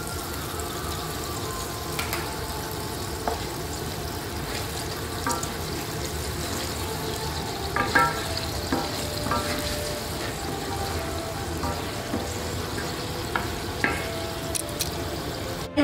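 Cauliflower Gobi Manchurian being stir-fried with a tablespoon of chili sauce, a continuous close sizzle with scraping stirs and occasional sharper clinks, steady and fairly loud with no talk.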